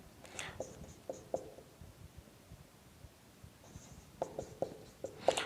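Marker or chalk strokes on a board during an organic chemistry lesson, short scratchy squeaks coming in two clusters, near and moderately quiet, over a faint background hiss with no talking.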